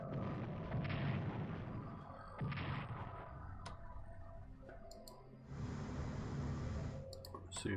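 Strategic bombing in the Strategic Command WWI strategy game comes through as repeated booming explosions in three bursts, with sharp interface clicks in between and a steady game background underneath.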